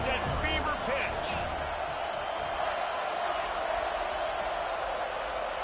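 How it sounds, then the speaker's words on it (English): A roaring football stadium crowd at an NCAA game during a third-down play in the red zone, a steady, dense wall of cheering and whooping that stays loud throughout, with a commentator's voice riding over the top. "this crowd is at fever pitch"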